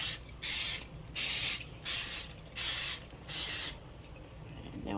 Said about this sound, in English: I'm only going to spray a little bit in each one.